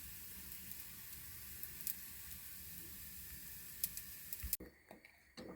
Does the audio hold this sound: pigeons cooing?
no